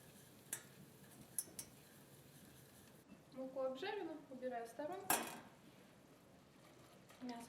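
Cooked meat, for an azu with tomato sauce, is tipped into a colander, giving a few scattered metallic clinks and rattles. A voice is audible partway through.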